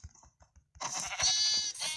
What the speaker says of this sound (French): Non, c'est un mouton.